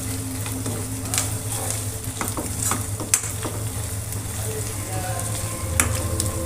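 Chili powder being stirred into a frying egg and tomato curry in a pan, with steady sizzling under scraping spoon strokes and a few sharper clinks of utensil against the pan, fairly close and continuous.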